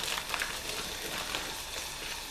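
Ground beef and minced onions sizzle steadily in a pan, a dense, even crackle that carries on alone for a couple of seconds.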